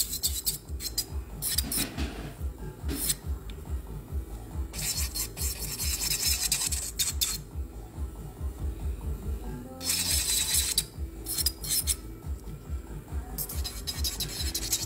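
Acrylic nails being filed with a nail file, a close, raspy scraping in quick back-and-forth strokes, coming in bursts with short pauses between them.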